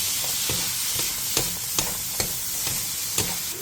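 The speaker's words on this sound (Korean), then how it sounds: "팬에 기름을 두른 뒤 남은 애호박을 전부 넣어주세요. 그 다음 다진 마늘 1스푼과 소금 2분의 1티스푼을 넣고 센 불에서 볶아주세요." Zucchini tossed with minced garlic and salt in an oiled pan over high heat, a steady close sizzle broken by regular spatula scrapes and stirs about every half second.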